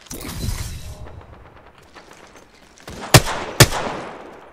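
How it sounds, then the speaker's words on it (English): Video game gunfire: a scatter of distant shots under game ambience, then two sharp, loud cracks close together near the end. "Listen up, I'm getting shot."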